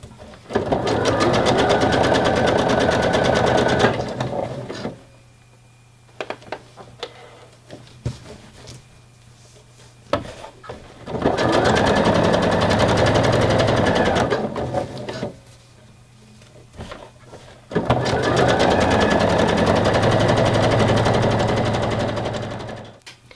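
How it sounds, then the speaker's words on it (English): A sewing machine stitching a 3-step zigzag top stitch along the edge of bikini bottoms, running in three long fast rattling bursts separated by quiet pauses with small handling noises. "You want to use a 3-step zigzag, and then just top stitch this edge down."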